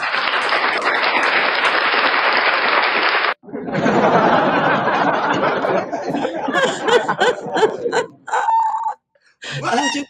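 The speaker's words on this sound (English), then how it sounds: "Give yourself a round of applause." An audience bursts into loud, dense applause for about three seconds, then it breaks off into scattered claps, chuckles and excited voices talking and laughing up close.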